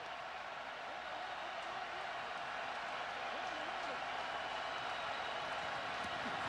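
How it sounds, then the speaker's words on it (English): A stadium crowd at a Louisville Kings vs St. Louis Battlehawks playoff semifinal football game roars on fourth and long, a dense, steady wall of noise that swells slightly louder over several seconds. "The crowd gets loud."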